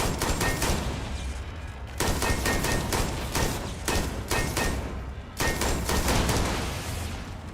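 Rapid bursts of gunfire in the space game Starfield: Shattered Space, loud and close, arriving in several sustained volleys separated by short pauses.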